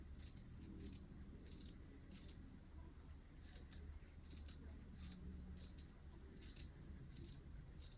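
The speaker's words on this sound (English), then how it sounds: "I'm just gonna cut a circle out of this square." Scissors cut a circle out of a square in a series of faint, quiet snips, roughly one every half second, over a low background hum.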